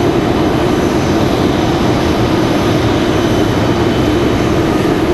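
A United Boeing 737 jet at Raleigh Durham International Airport: a loud, continuous broadband engine roar, close and steady throughout, with no break or change in level.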